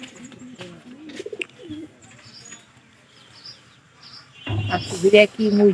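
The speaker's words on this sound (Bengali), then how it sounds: "এই যে কবুতর গুলা খুব ডিস্টার্ব করতেছে আমার" Pigeons coo in a home kitchen, soft calls near the start and a louder burst of cooing toward the end, over quiet room sound.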